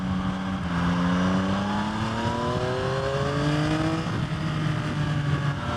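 A 2023 Yamaha XSR900 motorcycle engine revs up hard above 5,000 RPM through rising pitches, shifting and climbing again, with steady wind and road noise underneath.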